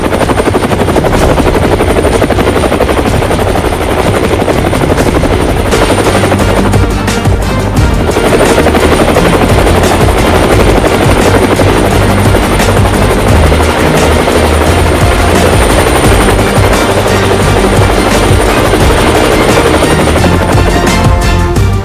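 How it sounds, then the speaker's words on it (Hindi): Indian Air Force indigenous Light Combat Helicopter in flight at an induction event, its loud, continuous rotor thrum and turbine whine filling the whole stretch without speech. "इंडियन एयरफोर्स में देश के प्रथम इंडिजिनस लाइट कॉम्बैट हेलीकॉप्टर का इंडक्शन हो रहा है।"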